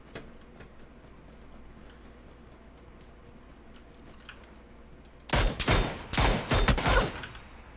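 Rapid bursts of video game gunfire break in loudly after a long quiet stretch, several clustered volleys in the last few seconds with no talk over them.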